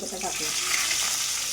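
Curry leaves dropped into hot oil for pohe, a bright crackling sizzle that swells steadily, loud and close, with a faint voice underneath.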